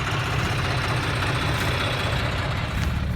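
A heavy diesel tractor engine idles steadily nearby, a continuous low rumble with a chugging throb and no talking.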